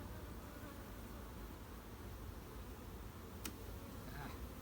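Honey bees buzz in a steady, dense drone from an open hive, with one sharp click partway through.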